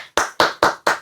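Four sharp hand claps in a steady rhythm, each a loud, close, bright burst with a short decay and brief silence between them.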